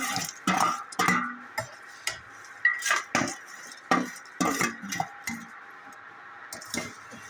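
Thin poha chivda mixture being tossed and stirred in a pan, irregular scraping and metallic clinks of a spoon against the pan in uneven bursts, close and fairly loud, without speech.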